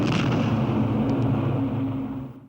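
A bomb detonates on striking the ground, giving a loud, sustained rumbling blast that holds steady for about two seconds before fading out, with no voices.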